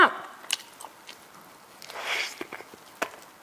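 Someone eats spicy Isan food up close, with a few crisp bites and soft chewing squelches at an irregular pace and no talk.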